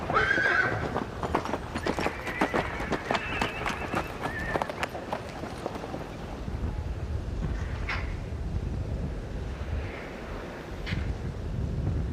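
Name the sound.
captured wild mustang horses arriving, hooves and neighing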